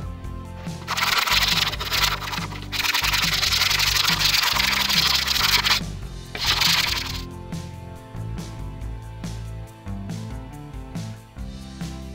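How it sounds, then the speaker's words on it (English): Sanding a wooden Mehrunes' Razor prop blade by hand gives steady, dense abrasive rubbing in long continuous strokes, fairly loud and close, easing into lighter intermittent scratching toward the end, with no talk. "the last thing we'll have to do is to sand the blade, sharpen it a little bit, and round off the handle"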